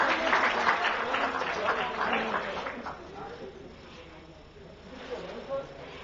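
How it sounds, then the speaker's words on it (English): Applause from an audience at the NSE Emerge platform launch event, a crowd of hands clapping loudly at first and then thinning out and fading, with a voice speaking over it. "a huge round of applause"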